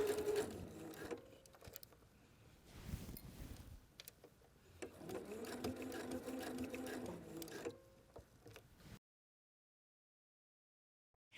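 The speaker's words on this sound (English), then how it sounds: "I'm going to do that same basting stitch at the machine to hold this in place" A domestic sewing machine runs a basting stitch on knit leggings in two close bursts of rapid mechanical whirring, with a short pause between them, then silence.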